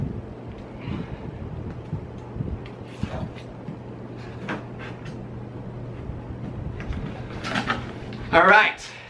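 An Xbox One S console box being opened by hand: soft cardboard and packaging rustles under nearby talk, ending in a brief, louder scraping burst as the lid or contents slide free.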